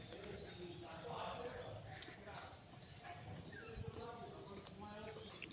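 Pigeons cooing on a wet rooftop after rain, soft murmuring calls recurring through the clip amid steady outdoor background noise.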